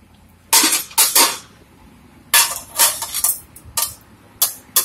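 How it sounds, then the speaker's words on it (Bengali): Metal clatter as a lid is set on a pan of chicken curry: several sharp, close clanks in two clusters with gaps between them, loud against a quiet kitchen, with no talk. "আমি আবার গ্যাসটা কমিয়ে ঢেকে দেব।"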